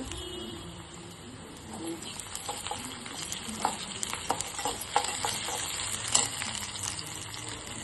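Fried onion in a pan for prawn curry, with ginger garlic paste going in: a continuous sizzle under repeated scraping stir strokes, close and moderately loud, with faint bird coos in the background.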